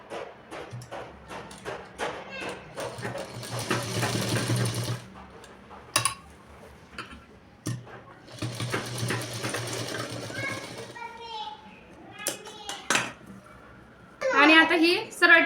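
An electric sewing machine stitches a lined blouse in short rattling bursts, some lasting a few seconds, between pauses, while someone talks over and between the runs.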